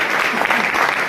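An audience applauding loudly and densely at an indoor meeting, a brief sustained burst of clapping.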